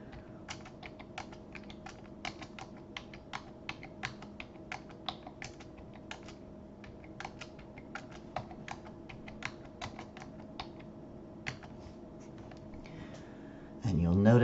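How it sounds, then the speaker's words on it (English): Numbers are typed on a computer keyboard with enter pressed between entries, giving quiet, irregular clicks and taps over a faint background hum, with a brief louder bump at the very end. "We're going to keep typing numbers and pressing enter."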